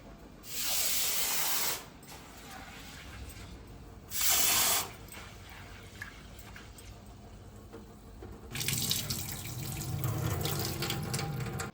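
Rice being washed in water to make Pongal, with bursts of running, splashing water, two short strong rushes early, then a steadier stream of water and sloshing toward the end, with no talking.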